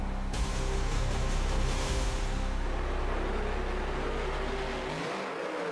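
Monster trucks race with loud, steady engine roar and whir in BeamNG.drive, revving hard off the start and holding a sustained drone before cutting off near the end.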